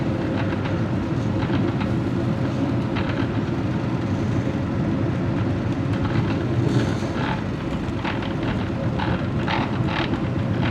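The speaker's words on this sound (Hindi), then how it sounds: "ये जा रहा है सातकाबाद रेलवे स्टेशन, जो कि अच्छी स्पीड के साथ पास थ्रू कर रहे हैं" The Shalimar Express speeds through Satkabad railway station, making a steady, loud rumble with rail clatter and rattling that runs continuously without a break. No voices are heard.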